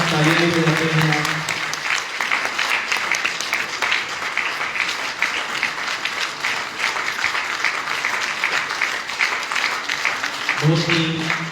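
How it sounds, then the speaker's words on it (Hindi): Steady applause from a crowd at a book launch fills the clip, with brief talking audible at the start and end. "रिकॉर्डिंग के साथ साथ तालियां भी बजाते हैं आप।"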